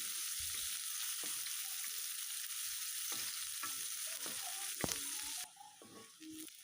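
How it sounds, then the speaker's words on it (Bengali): Green chili, onion and crushed garlic fry in oil with a soft hiss and intermittent stirring clicks and taps, quiet and near, the sizzle thinning toward the end. "এখন সবগুলোকে একটু ভেজে নিতে হবে।"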